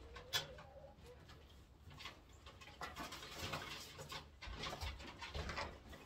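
White homing pigeons coo softly while being lifted out of shipping boxes. The low cooing is mixed with light shuffling, pattering and wing rustles at close range, with no speech.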